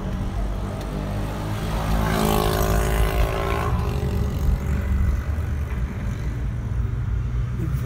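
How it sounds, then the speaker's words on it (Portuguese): An engine rumbles steadily, swelling louder through the middle as a motorbike draws near on the road, then easing off slightly. "Um motinho vindo aqui, ó."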